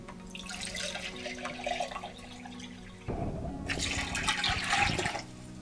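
Ordinary tap water poured into a batch of red rowan berry liqueur, a steady splashing stream for several seconds that changes and grows brighter partway through, close and moderately loud, with no one speaking.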